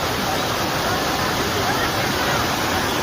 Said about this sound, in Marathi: चला मित्रांनो, आपण पळसे वॉटरफॉलला आलेलो आहे.